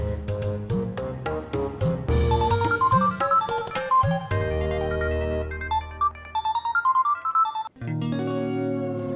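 A mobile phone rings for an incoming call, playing a bright melodic ringtone with repeated plucked notes and chimes, loud and close with no talk over it.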